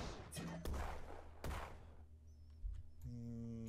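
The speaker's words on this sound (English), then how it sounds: "fragmentation barrage" Fragmentation barrage strike in the Starship Troopers strategy game, a few sharp explosive bangs and thuds at moderate loudness over a faint game background tone.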